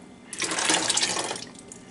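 Bottled or filtered drinking water poured into a jar for homemade hot sauce, a short steady splashing pour lasting about a second, close and fairly quiet, with no talk.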